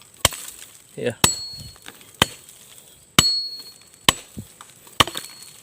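A small axe hacking into the trunk of a coconut tree outdoors, six sharp, loud chops spaced about a second apart with a metallic edge, and a brief spoken word between strikes.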